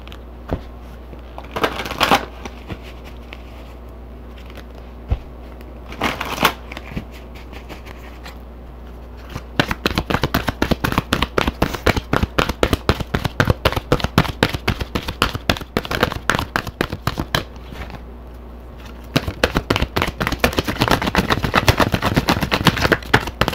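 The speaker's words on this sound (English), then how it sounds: "let me go ahead and pull, let's see, an angel answer card" A deck of angel answer oracle cards is shuffled by hand in quick, dense riffles and rapid flicking bursts with brief pauses between them, close and fairly loud over a low steady hum.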